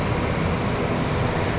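An aircraft engine spools up at London City airport, a loud, steady broadband roar heard from a distance with no voices over it.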